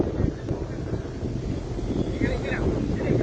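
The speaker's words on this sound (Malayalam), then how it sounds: "അതുപോലെ നല്ല അത്യാവശ്യം നല്ല കാറ്റും ഉണ്ട് കേട്ടോ." On a hilltop overlooking mountain ranges, steady wind rushes and buffets the microphone throughout, a broad low roar with no clear pauses.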